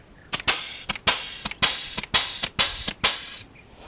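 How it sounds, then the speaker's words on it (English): Pneumatic grease gun greasing the fittings on a lawn mower, about eight sharp, loud hissing bursts of air in an uneven rhythm, each cutting off abruptly, close by with no talk. "We use a pneumatic grease gun and hit all of the grease fittings where needed or where they exist."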